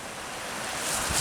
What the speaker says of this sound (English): Sound of falling waters.